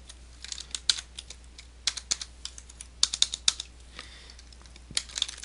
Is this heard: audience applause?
no